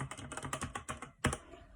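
Rapid mechanical keystrokes on a RedDragon K552 gaming keyboard with red switches, a steady run of close, crisp clacks followed by one louder strike and a short tail of quieter taps, with no talking.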